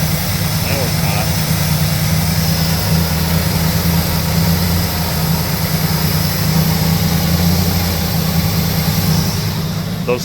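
A 1977 Lincoln Mark V engine idling with a misfire, a steady close rumble with an uneven, lumpy pulse running continuously throughout.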